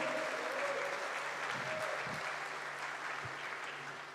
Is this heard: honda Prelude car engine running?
no